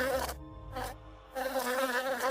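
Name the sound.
bee buzzing sound effect in audio drama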